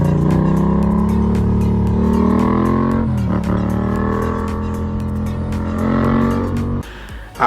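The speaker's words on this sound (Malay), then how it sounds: "Engine Yamaha which is MT-07 menggunakan engine CP2 which is crossplane" Yamaha MT-07 motorcycle with a CP2 crossplane 270-degree twin-cylinder engine, revving loud and close with rising and falling pitch, throttle blips and a sudden drop near the end.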